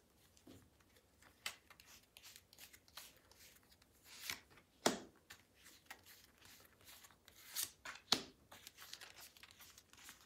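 Tarot cards handled, shuffled and laid out, giving faint, close rustling, flicking and crinkling with a few sharper slaps of cards set down, and no voice.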